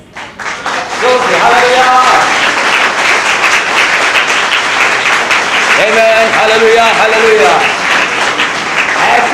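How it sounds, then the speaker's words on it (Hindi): Congregation at a church service claps and applauds loudly and steadily throughout, with voices shouting praise over the dense clapping. "प्रभु की महिमा की तालियां बजाइए।"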